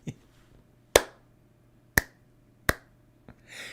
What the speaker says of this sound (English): Clap to sync your audio.